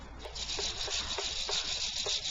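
Rhythmic rubbing as dry-embossed paper is sanded: soft, even back-and-forth strokes about twice a second, quiet and close with no talk.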